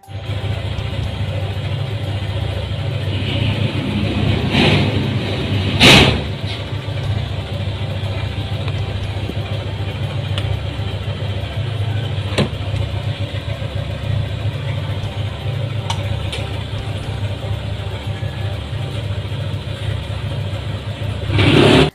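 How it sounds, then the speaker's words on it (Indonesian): A motorcycle engine being warmed up and revved right beside a bedroom, a steady loud idle drone running throughout with a few brief sharper bursts, heard alone with no talking. "anak tetangganya itu pasti sengaja manasin motor sampai digeber-geber tepat di samping kamar orang"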